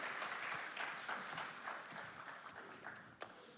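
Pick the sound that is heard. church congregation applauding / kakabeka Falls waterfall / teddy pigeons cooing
church congregation applauding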